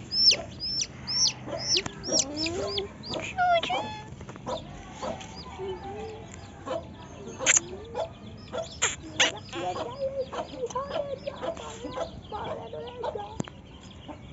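Chickens and large roosters cluck and squawk close by on a rooftop, calling busily and overlapping for the whole stretch, with a few louder cries standing out.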